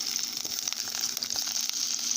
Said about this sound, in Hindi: इन सबको फ्राई करते टाइम मैं भिंडी ऐड कर देती हूँ, ताकि इन सब के साथ भिंडी भी अच्छे से फ्राई हो जाए